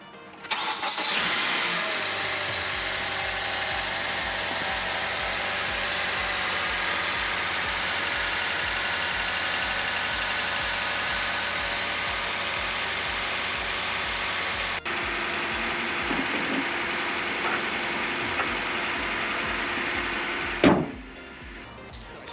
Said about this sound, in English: start the car and see if it works perfectly